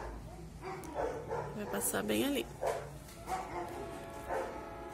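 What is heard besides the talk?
dogs barking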